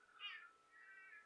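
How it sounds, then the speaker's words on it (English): A cat meows twice near an inverter installation, the first call louder and rising, the second longer and softer, with no speech. "there was a cat scared the crap out of me"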